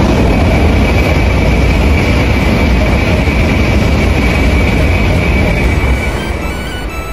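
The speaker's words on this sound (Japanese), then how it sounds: "高速で通過する新幹線" N700S Shinkansen bullet train rushing through Nishi-Akashi station at high speed, a loud, sustained roaring wash of wind and rail noise close by that holds steady before easing slightly at the end, with no voices.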